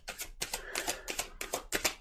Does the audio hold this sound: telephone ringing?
no